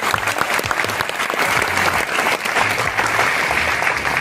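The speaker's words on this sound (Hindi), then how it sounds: "ताली इन सभी लोगों को।" Loud, dense applause from a large audience at a direct selling event, continuous clapping with a few crowd sounds mixed in, sustained at full strength throughout.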